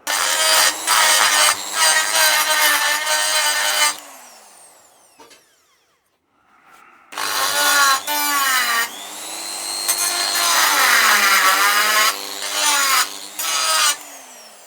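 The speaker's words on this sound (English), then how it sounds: "I think we'll get the die grinder, do a bit of damage." A die grinder shrieks against a cracked KTM motorcycle crankcase, loud high-pitched grinding in long bursts with a short pause and pitch changes as the tool loads and frees up.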